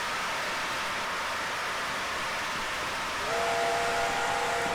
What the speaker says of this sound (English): Steam trains are loud.